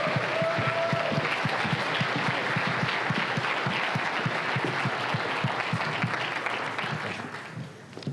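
Warm, sustained applause from a university event audience, dense and loud clapping filling the room before easing off near the end.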